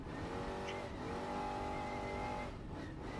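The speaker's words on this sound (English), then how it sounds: "it's kind of cool to see when a car comes through, the chase trucks take off" Ultra4 off-road race car passing in the Vegas to Reno desert race: a loud engine roar sweeps by with rising and falling pitch, close and continuous throughout.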